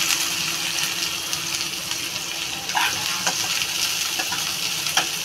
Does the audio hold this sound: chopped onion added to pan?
yes